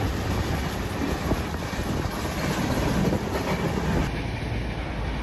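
A Konkan Railway train runs steadily throughout, its broad rumble and clatter of the wagons constant and close, with no voices over the rolling noise.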